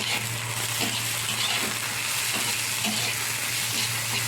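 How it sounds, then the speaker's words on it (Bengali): Potato and bitter gourd frying with hilsa fish head, onion and green chilli in a pan, a constant, even close sizzle under a low steady hum, with faint stirring taps. "মাথা পেঁয়াজ আর কাঁচা লঙ্কাটা দিয়ে ভালো করে একটু ভেজে নেবো ওই আলু আর উচ্ছের মধ্যে"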